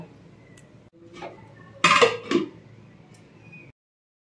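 A lid set down on a pot of bottle gourd peels about to boil, a couple of close metallic clanks and clinks in the middle of a quiet kitchen, with a soft scrape before them.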